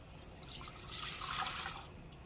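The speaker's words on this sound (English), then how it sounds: "we're going to add our vinegar to the pot." Vinegar poured into a cooking pot, a soft continuous liquid stream that swells and then tapers off, faint and close.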